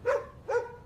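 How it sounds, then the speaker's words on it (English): Two sharp dog barks in quick succession, close and fairly loud, each a bright yelping bark with a short tail and no other sound around them. "If Max keeps barking like this, our neighbors are gonna complain"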